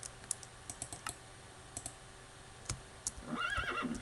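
Horse whinny in the Minecraft video game, a rising, wavering neigh near the end, following scattered sharp keyboard-like clicks over a quiet background.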